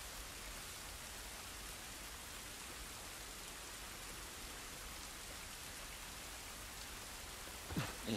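Rain falls outdoors in The Last of Us Part 1, an even, hissing wash of drops that stays steady and fairly soft throughout, with a faint knock near the end.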